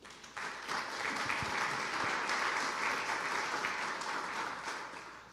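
A church congregation applauds during a sermon on God's great salvation. The clapping is steady and moderately distant, swelling quickly and holding for about five seconds before easing off.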